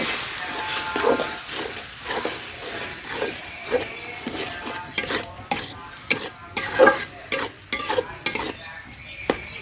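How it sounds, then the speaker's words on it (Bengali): Catla fish curry with turmeric and salt frying in a pan while being stirred, a steady sizzle broken by repeated scraping and stirring strokes throughout, close and fairly loud with no talking. "স্বাদ মতো লবণ আর এটা ভালোভাবে মিশিয়ে নেব"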